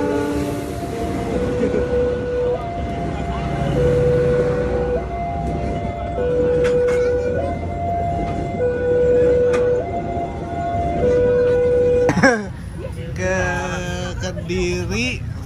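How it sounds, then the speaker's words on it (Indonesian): Passenger train passing in Yogyakarta, its horn sounding in repeated stepped two-tone blasts over a steady rumble, loud and close, with a sharp change in the noise near the end. "Jauh-jauh ke Jogja cuman pengen videoin kereta kayak gini guys."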